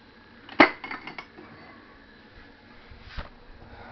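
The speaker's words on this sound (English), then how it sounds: "Oh, I need to get a glass out for my drink." A drinking glass being taken from a kitchen cupboard: a sharp clink of glass early on, a few lighter knocks and rattles, then another soft tap, all close and quiet with no talking.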